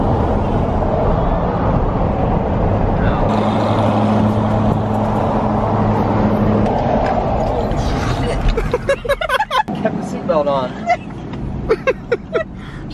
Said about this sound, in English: Challenger up there is getting it. Is that the Hellcat?